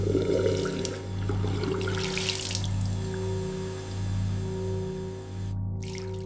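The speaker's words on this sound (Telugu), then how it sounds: "ట్యాబ్ నుండి నీళ్లు కారుతున్నాయి." Water running from a bathroom tap, a thin steady trickle over a constant low hum in a quiet room, with a brief splashy burst near the start.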